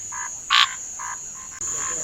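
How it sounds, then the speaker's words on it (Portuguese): A male bathroom tree frog (perereca de banheiro) calls from a wall beside a water tank in the Brazilian sertão during the rainy season. About four short, raspy croaks come in quick succession, one louder than the rest, over a steady high insect drone. "Esse macho de perereca de banheiro estava vocalizando em um muro"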